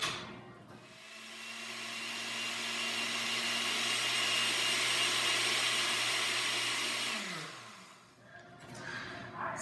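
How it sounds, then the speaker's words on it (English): A blender whirs steadily for several seconds as it purées crustless quiche batter with brown rice flour, broccoli and cheese, a loud motor whine that dips in pitch and stops, then faint clatter. "Put the lid on it and blend it."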